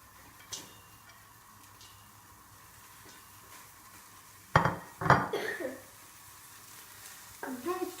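Stirring onions, garlic and leek as they brown in a pot for crab soup, with a few scraping, clattering strokes and a faint sizzle, louder bursts near the end.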